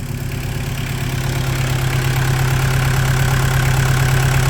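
A VW Rabbit pickup diesel engine idles steadily after its fuel screw is turned up, a loud, close, continuous low rumble with a slightly knocking, even pulse and no voices.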